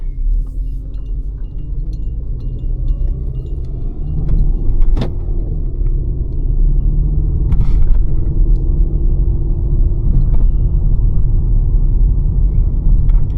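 A low-mileage 1999 Volkswagen Golf small car drives steadily along a road, with a continuous low engine and road rumble inside the cabin, swelling slightly midway, and a few faint rattles and clicks.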